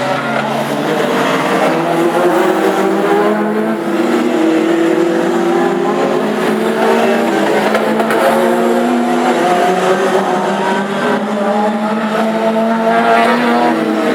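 Classic hot rod race cars circling Aldershot Raceway on a drying track, engines droning and rising and falling in pitch continuously and loudly, with a commentator talking over the racing.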